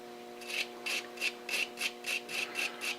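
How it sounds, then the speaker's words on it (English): A heavy brush scrubs gunk off screws from a Brown & Sharpe dividing head, giving eight or so rhythmic, evenly spaced bristly strokes, close but fairly soft over a faint steady hum. "I'm just cleaning the gunk out of them with a heavy brush"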